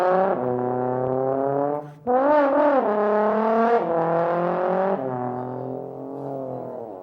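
A trombone slides through sustained brassy tones that mimic a motorcycle revving and shifting gears, bright and close, with no other sounds.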